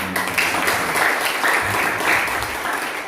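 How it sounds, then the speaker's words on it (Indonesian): Congregation applauding in church during a Sunday service, a steady dense wash of many hands clapping together, loud and sustained throughout with no break. "Berikan tepuk tangan"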